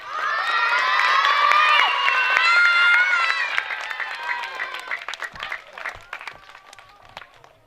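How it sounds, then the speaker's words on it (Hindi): An audience at a school annual day function breaks into loud clapping mixed with children's shouts and cheers, sustained for a few seconds then thinning into scattered claps as it dies down. "आप लोग एक बार ताली बजा दें।"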